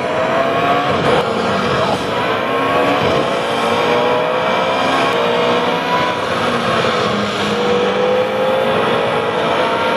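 Race car simulator ride at Ferrari World Abu Dhabi, with a loud, continuous engine roar that climbs steadily in pitch as it accelerates, filling the whole stretch without a break.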